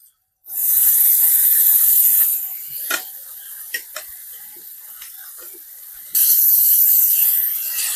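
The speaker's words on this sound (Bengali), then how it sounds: "এবার আমি মাছগুলো দিয়ে দিলাম তেলের মধ্যে" Hilsa fish and chopped greens fry in hot oil, a loud steady sizzle bursting in as the fish goes in, easing after a couple of seconds with scattered crackles and pops, then swelling loud again near the end.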